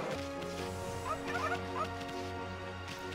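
Dog barks and yips from the video game Okami, a few short sharp calls over a steady humming game soundtrack, fairly faint.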